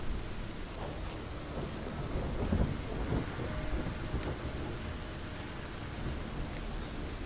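Rain pours and thunder rumbles steadily during a lightning storm in the Hellblade video game, a dense, continuous wash of sound with a heavier swell partway through and no speech.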